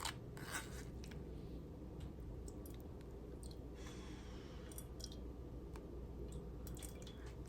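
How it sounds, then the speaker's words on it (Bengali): Almond and date juice being pressed and strained through a filter, giving soft, faint drips and wet squishes at an irregular pace over a low steady background, with no talking. "একটু চেপে চেপে ধৈর্য ধরে সম্পূর্ণ রসটাকে আমি ফিল্টার করে নিচ্ছি"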